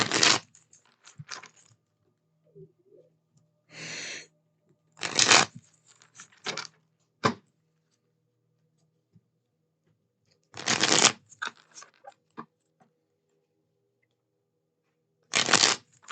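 Oracle cards are shuffled for a tarot reading in several short, crisp riffling bursts scattered among quiet stretches, close and fairly loud with no talk.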